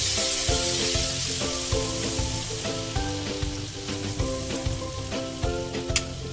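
Steady sizzling of grated tomato frying in a pan for a mustard pabda fish curry, with a rhythmic music track playing loudly over it throughout.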